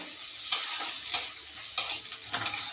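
Paneer and capsicum fry in a pan while a spoon stirs them in four or five sharp scraping strokes at a regular pace, set against a constant close sizzle, with no voices.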